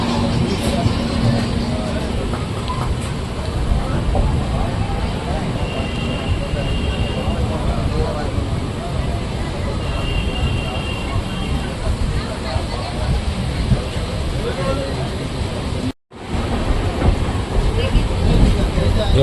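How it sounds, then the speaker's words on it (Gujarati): A train pulling out of Jetpur railway station, its rumbling wheels and carriage noise forming a loud, continuous roar with a brief dropout near the end and faint voices in the background. "આપણે ટ્રેન ઉપડી ગઈ છે"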